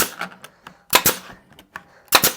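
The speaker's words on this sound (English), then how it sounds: "if they truly are scraps, I'll just go ahead and shoot a few brads" A brad nailer fires brads into scrap plywood: three loud, sharp pneumatic snaps with lighter clicks and thumps between them, heard close up.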